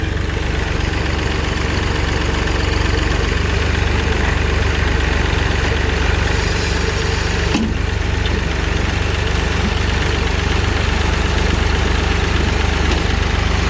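A 1965 Massey Ferguson 203 tractor fitted with a front bucket loader and backhoe idles steadily up close, giving a loud, constant, rumbling diesel drone with slight knocking throughout and no voices.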